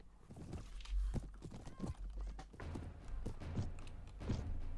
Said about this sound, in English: I don't like how quickly those horses are advancing, though.